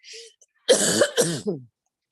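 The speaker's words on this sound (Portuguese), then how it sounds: "Gente, eu estou com um pigarro horrível." A person clears their throat in a short series of rough, harsh bursts, a brief faint sound first, then several loud close throat-clearing rasps in quick succession, with no other sound around it.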